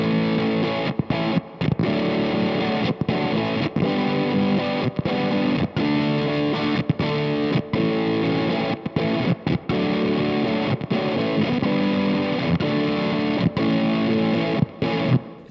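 An electric guitar plays through a fuzz distortion pedal with a lightning capsule, giving a thick, buzzing, saturated tone in sustained chords broken by short gaps and choppy stops.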